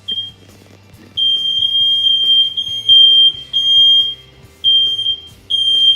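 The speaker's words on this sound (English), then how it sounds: "Setting off the fire alarm." Smoke alarm set off while frying spotted sea trout, shrill high beeps repeating loudly in bursts over a low background hum.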